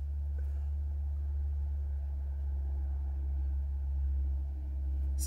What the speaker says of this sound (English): It's like a forklift truck.